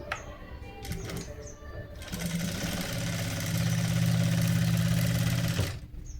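A sewing machine stitches along the edge of a blouse sleeve, starting with a few short bursts and then settling into a louder, steady close motor hum and rattle that stops abruptly near the end.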